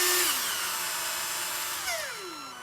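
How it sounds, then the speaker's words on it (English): A power driver backs out the screws on the fuser of a Toshiba 4540c printer, giving two close whirring bursts that slide downward in pitch as the motor spins down. "now we have to loosen these 2 main screws so we can take it apart"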